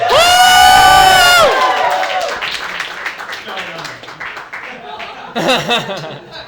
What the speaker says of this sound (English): And keep that applause going for Megan Rosenblum.